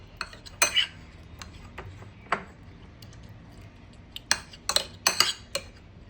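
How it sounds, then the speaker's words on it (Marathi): Boiled taro stems are mashed in a bowl. A utensil clinks and scrapes against the bowl in scattered bursts, some sharp and close, over a quiet background. "प्रथम एका बाउलमध्ये उकडलेली देठ घेऊन ती स्मॅश करून घेणे"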